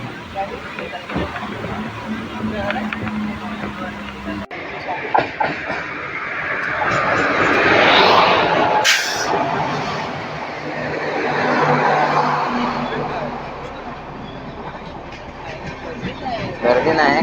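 A passenger train on the Diva–Sawantwadi line runs through heavy monsoon rain near Palvan, its continuous rumble and rattle swelling louder at two points before easing off again.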